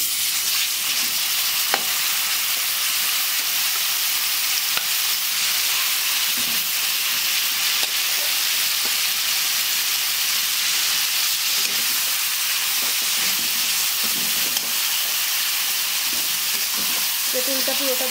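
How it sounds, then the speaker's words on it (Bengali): Tamarind fries in a pan for pickle, a steady loud sizzle with hissing steam running throughout, punctuated by occasional soft stirring scrapes. "তেঁতুলটা পুরোটা দিয়ে দিয়েছি। এবার এটাকে একটু ভাজা ভাজা হতে দেবে।"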